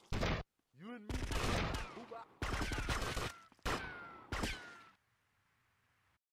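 Gunfire bursts in the GTA Vice City video game, including a sniper rifle, hit in loud, sharp clusters separated by brief gaps, with game voices mixed in, before dropping to near silence.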